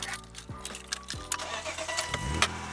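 BMW M3 engine cranking with two short starter bursts before catching and firing up, then settling into a rough, revving idle, heard close and fairly quiet.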